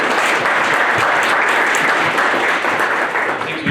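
Sustained audience applause fills a ceremony hall, dense steady clapping from a large crowd at close to moderate distance, continuous throughout with no talk.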